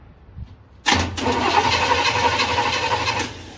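A 1957 Chevy engine catches abruptly after a short quiet lead-in, then runs at a steady, loud, close idle with a rough mid-range rumble for the rest of the clip.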